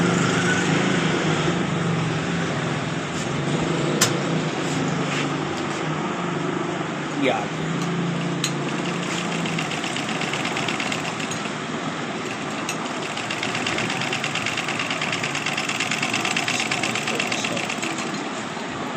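Hand-operated household sewing machine stitching at steady pace after shuttle and needle timing repair, a continuous close mechanical whir with light rhythmic clatter, accompanied by a voice talking over it.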